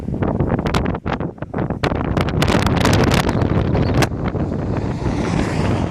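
Strong wind roars and buffets the microphone on an exposed coastal road in New Zealand, a loud continuous rush with gusty surges and brief dips, heard alone without talk.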